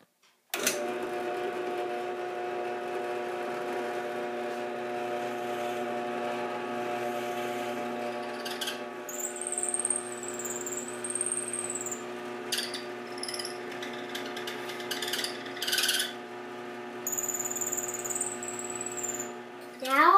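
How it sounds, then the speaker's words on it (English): A drill bores a hole through a purple slimline pen blank of wood, a steady whining motor hum that runs on and then rises into sharper, uneven grinding bursts near the end. "Now it's time to drill the hole."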